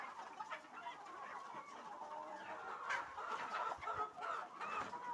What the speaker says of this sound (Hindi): ये देखो मुर्गे कितने